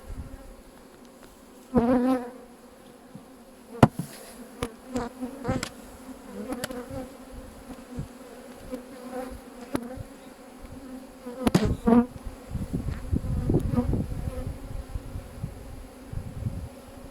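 Agitated honeybees buzz around an opened hive, individual bees zipping close past the microphone in loud passes and whining swoops over a quieter background hum, with no talk.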